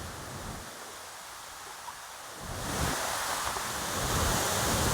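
Heavy rushing water of a waterfall swollen after heavy rain near Aaliyar, Coimbatore, a steady broadband roar that grows louder and denser midway through, with no voices.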